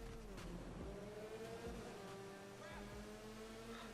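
A BMW E30 M3 drives in GTA 5, its engine droning steadily with slight pitch shifts, faint and continuous.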